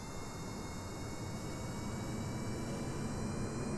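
A rocket engine at full throttle in Kerbal Space Program, a dense unbroken roar holding constant and loud from start to finish.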